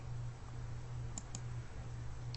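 Two faint, quick computer mouse clicks close together over a steady low hum as a zone is closed.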